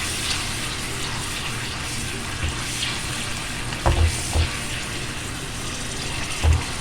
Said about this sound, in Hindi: इसी में हमने जो है वो जिंजर गार्लिक पेस्ट डाल देना है, वो मैंने फ्राई किया